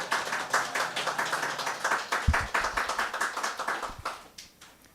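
A church congregation claps in welcome for visiting elders, a lively burst of rhythmic hand claps that starts loud and tapers off toward the end.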